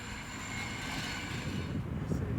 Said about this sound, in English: This is the train coming up from the valley.